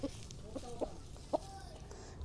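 Gamecock hen, a solid street comb bird, gives a few soft, scattered clucks, near but faint over a low background hum.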